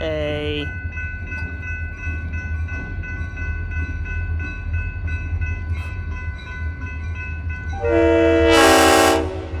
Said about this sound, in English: by federal law, they have to blow the horn, because a train horn